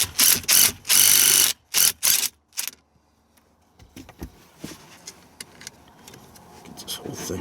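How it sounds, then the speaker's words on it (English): Ratchet loosening a battery terminal nut on a Corvette: several quick loud bursts of clicking ratchet strokes in the first two and a half seconds, then quieter metallic handling and rattling. "Let me get this nut loose."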